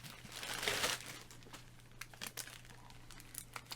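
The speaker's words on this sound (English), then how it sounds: "Let me get this tape cut off." Packing tape being cut off a cardboard mystery box, heard as a crinkling, tearing rasp early on, followed by scattered quiet crackles and snaps.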